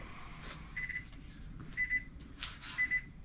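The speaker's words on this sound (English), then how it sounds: "I've opened the door and my alarms are going off" Meat thermometer alarms on a smoker during a long brisket and chuck roast cook, sounding as three short bursts of rapid high electronic beeps spaced about a second apart over quiet background noise.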